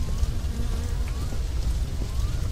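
A house burns in My Summer Car after its roof has collapsed. The fire gives off a steady, dense crackle and hiss, loud and close, holding constant throughout with no voices.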